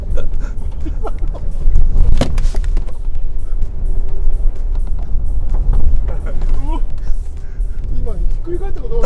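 A Mitsubishi Triton pickup, driven by a rally driver at about 40 km/h, runs up onto two wheels on a narrow road. Its loud, steady engine and road rumble carry constant wind buffeting, with people talking over it.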